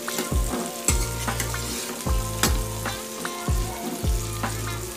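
Onion frying in oil and butter in a kadhai, a continuous crackling sizzle broken by rhythmic scraping stir strokes and metallic clanks of a spoon against the pan, close and steady.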